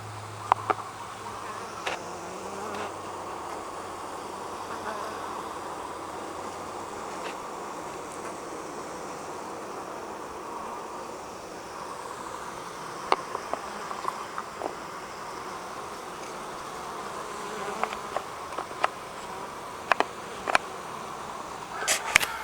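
Honey bees hum continuously around a hive under cacao trees, many foragers with heavy pollen loads, with a few faint clicks and knocks as the hive is handled.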